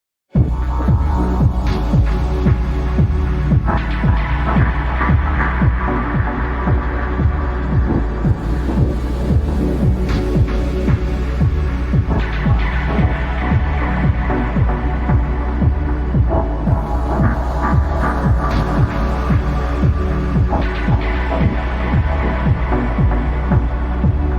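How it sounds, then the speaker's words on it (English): A punchy, noise-layered dub techno kick drum pulses steadily with a deep, smooth sine bass line from two oscillators underneath, loud and continuous throughout. "it's just a noise-layered kick. Paired with a bass line made from two oscillators"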